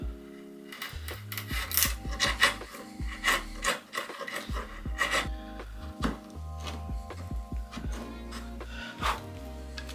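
A hand plane is pushed along a timber board for a potting bench, peeling off shavings in a series of rasping, rhythmic strokes with short pauses between, close and fairly loud.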